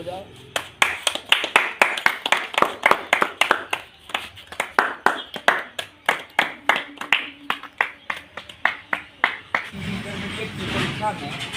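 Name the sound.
people clapping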